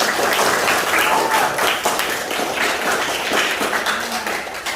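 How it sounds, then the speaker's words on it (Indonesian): Classmates in a junior high school classroom clap for a presenting group, a dense burst of applause that swells and fades, with some voices mixed in. "kita tepuk tangan dulu untuk teman-teman"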